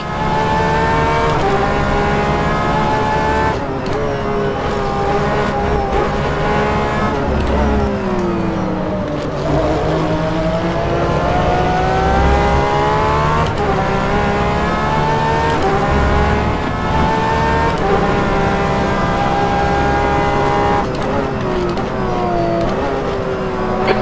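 Porsche 911 RSR GTE race car engine at Portimao in rFactor 2, a loud, close, raspy flat-six howl rising through the gears, with shift cuts, braking drops in pitch and repeated revving climbs throughout.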